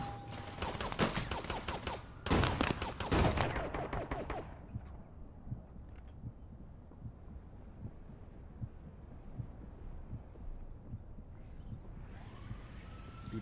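Shotgun blasts in the online shooter APB Reloaded, a rapid cluster of loud, sharp reports over about four seconds, followed by quieter background rumble and faint game ambience.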